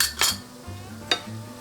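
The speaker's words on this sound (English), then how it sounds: "Mix it all together" Bacon and potato filling mixed in a bowl for double baked stuffed potatoes, with a few sharp utensil clinks and scrapes against the dish, close and fairly quiet.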